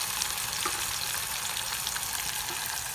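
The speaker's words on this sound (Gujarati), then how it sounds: "ડુંગળી નાખી અને લીલા મરચાં અને ટમેટા બધું સાથે નાખી દેવાનું છે." Chopped onions, green chilies and tomatoes, added together with garlic for an urad dal masala, sizzle in a hot pan with a steady, dense hiss that holds evenly loud throughout, with no voices.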